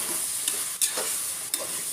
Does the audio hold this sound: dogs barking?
no